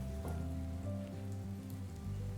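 Ukrainian perepichka dough frying in very hot oil, a steady close crackling sizzle with dense spattering that runs unbroken throughout, joined by a low hum.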